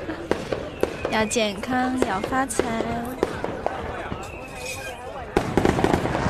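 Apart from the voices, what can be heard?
fireworks going off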